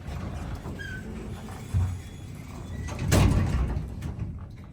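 Original 1968 Westinghouse/KONE traction elevator doors slide along their track at Saks Fifth Avenue, a moderate rumbling glide with a thump near the middle and a louder swell of door movement toward the end, with no talking.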